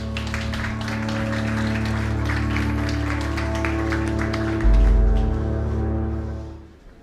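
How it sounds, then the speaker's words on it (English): A conference audience gives a steady, sustained round of applause that fills the room, with a low hum underneath, then tapers off toward the end. "So give a huge round of applause for Enrique."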